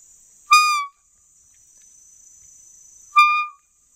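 A handmade deer call whistle imitates a fawn's bleat. It gives two short, clear, high-pitched bleats about three seconds apart. Both are close and loud over a faint steady background hiss, with no talk.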